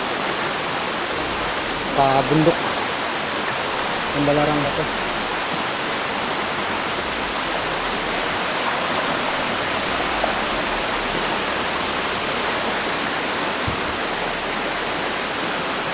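River water rushes in a broad, steady roar near a mountain, filling the whole scene at constant loudness, with a voice speaking briefly over it.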